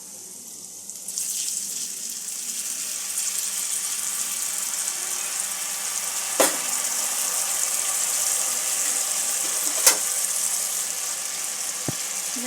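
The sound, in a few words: mustard paste sizzling in hot spiced oil in a pan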